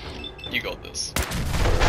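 Explosions in the video game Fallout 4: faint game noises, then a sudden loud blast that swells into a sustained rumbling roar.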